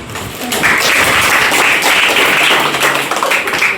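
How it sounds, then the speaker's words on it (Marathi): Schoolchildren clap together in thanks to a foundation after a distribution of notebooks and snacks at their school, a burst of hand claps rising after a quiet start and continuing steadily to the end. "पहिल्यांदा आपण टाळ्या वाजवून त्यांचा आभार मानायचा आहे"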